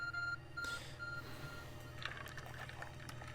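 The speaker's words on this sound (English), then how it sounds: "Ring my phone one more time, I dare you." A phone rings in Pokemon Legends: Arceus, giving short repeated electronic tones at a steady pace over quiet game ambience, followed by softer chiming sounds.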